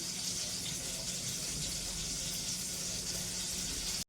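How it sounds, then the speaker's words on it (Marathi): Eggplant and sliced onion frying in a pan for a curd-based gravy, a steady soft sizzle held evenly throughout, close by and without talk, ending abruptly. "आता ही वांगी थोडी फ्राय होत आहेत"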